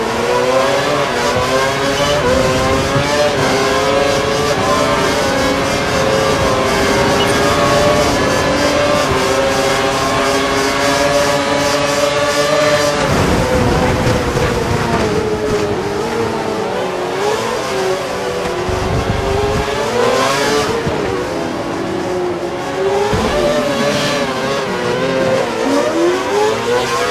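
Formula 1 race car engines in the F1 2012 game at Malaysia, loud high-pitched screaming revs with rising harmonic sweeps, a sharp shift and drop near the middle, then continued fluctuating revving that stays close and steady to the end.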